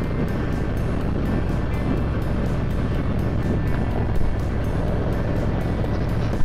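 A Triumph Bobber motorcycle fitted with a Fox shock rumbles steadily while ridden over bumpy ground, its engine drone blended with loud, constant wind rush and a faint jolt near the end.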